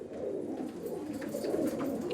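Kaldoma pigeon of the old Pulsar line cooing in a loft, a steady low murmuring coo that carries on throughout at moderate loudness with no talk over it.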